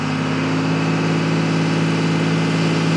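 A Cummins 24-valve diesel truck engine idles with a steady, throbbing low hum that holds constant throughout, fairly close and loud, with no talking.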